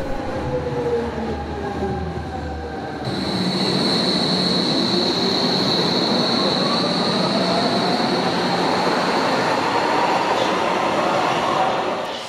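Hamburg U-Bahn U3 subway train running out of the tunnel past Schlump station into green surroundings, a loud steady rumble of wheels and motors close by with a rising whine, filling the whole stretch without talk.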